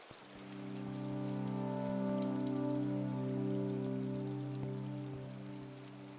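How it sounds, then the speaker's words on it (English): Rain falls steadily in the video game Eastward, a soft continuous patter over a low sustained musical drone, swelling gently and then easing. "it's so atmospheric listening to that rain."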